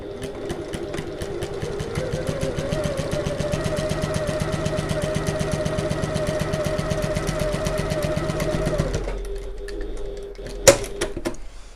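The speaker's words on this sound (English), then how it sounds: "all we're going to do now is sew along this line using our regular stitch length, and I'm going to back stitch at the start and at the end" A sewing machine runs a steady regular-length seam on a midi bag for about nine seconds, loud and close, then stops, followed by a faint click or two.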